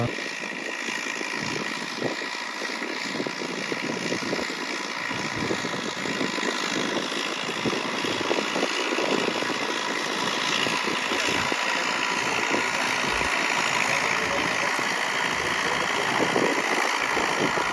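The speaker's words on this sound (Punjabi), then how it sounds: "ਟਰੈਕਟਰ ਵੀ ਵਧੀਆ ਚੱਲੀ ਜਾਂਦਾ" A new tractor engine running in a farm field, a steady droning rumble held close throughout with a constant broadband roar and no breaks, no talking.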